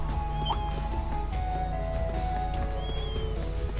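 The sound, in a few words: cat meowing in a video game (Trails of Cold Steel 2)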